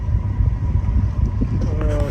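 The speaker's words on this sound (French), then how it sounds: "On a un petit vent rafaleux entre 3 et 4" Gusty wind buffeting a sailboat at sea between Marmaris and Rhodes, a loud steady roar of wind across the microphone with a rumbling low end. A voice speaks faintly beneath it.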